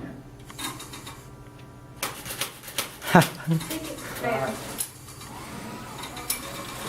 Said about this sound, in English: So that servo gear, one of the teeth was missing at the top. So every now and again we get that clicking noise,